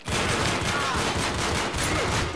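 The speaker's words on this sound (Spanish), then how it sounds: "La fal es muy potente" Rapid, loud bursts of FAL rifle fire in an Uncharted 3 online free-for-all match, shots packed tightly into a continuous rattling volley with no pauses.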